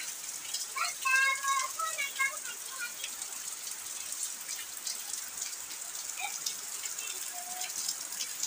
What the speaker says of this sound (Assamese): একদম পূৰা বাহিৰত একদম পূৰা দপদপীয়া বৰষুণ একদম নেৰা নেপেৰা বৰষুণ